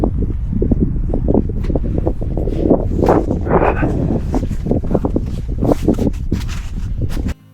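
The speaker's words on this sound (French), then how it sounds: "il y a du vent, le vent est frais" Steady wind rushes and buffets across an outdoor microphone over marshy ground, with faint rustling and thumps underneath throughout.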